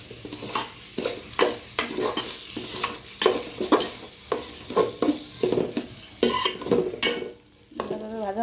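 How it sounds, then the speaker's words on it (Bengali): Polao rice grains fried and stirred in a pan for egg polao, with a steady sizzle under repeated scraping strokes of a spoon, close and fairly loud throughout. "চালগুলি ভালোভাবে কষিয়ে নেব।"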